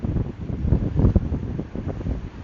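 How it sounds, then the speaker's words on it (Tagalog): Strong wind at a beach campsite in Zambales buffets the microphone in a continuous low roar, with a faint wash of surf beneath it. "Grabe, sobrang lakas ng hangin ngayon."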